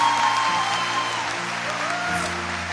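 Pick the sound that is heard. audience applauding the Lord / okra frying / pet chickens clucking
audience applauding the Lord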